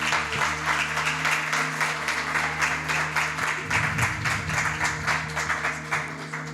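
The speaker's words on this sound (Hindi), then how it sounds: "आए हम सब खुदावंद के लिए ज़ोरदार तालियां बजाएं" A church congregation gathered for a Women's Sunday service claps together loudly, a dense rhythmic run of hand claps over a steady low hum, lasting several seconds.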